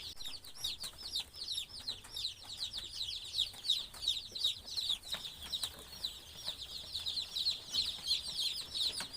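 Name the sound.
day-old chicks in a brooder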